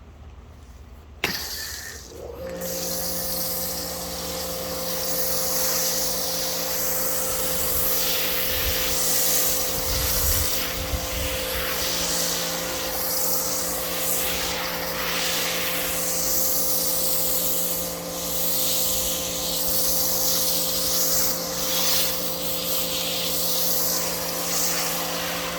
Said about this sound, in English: Now we're going to foam the whole side.